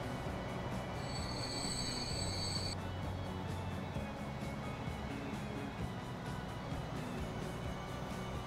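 Trains on a railway in the video game Transport Fever roll past with a steady, loud mechanical rumble, and a shrill wheel squeal rings out early before fading back into the continuous rolling drone.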